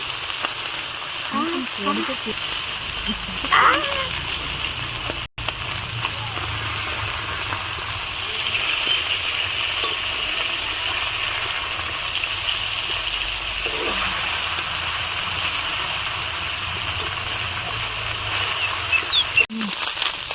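Small kachki fish frying in oil in a pan over a clay stove, a continuous hiss and sizzle, with faint voices and a few brief knocks.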